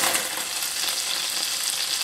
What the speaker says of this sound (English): Our butter is simmering.